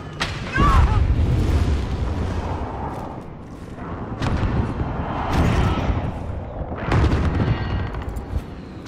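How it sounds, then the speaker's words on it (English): Heavy explosions from a precision airstrike in Call of Duty Modern Warfare Ground War, with several deep booming blasts rolling in at intervals over a dense battlefield din and muffled voices. "Be advised, friendly precision airstrike inbound."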